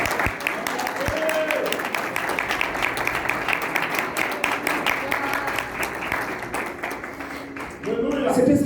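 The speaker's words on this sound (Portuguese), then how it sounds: "Uma salva de palmas para o Senhor." Church congregation applauding at a worship service, dense sustained clapping filling the space with a preacher's voice partly mixed in, briefly dipping near the end before swelling again.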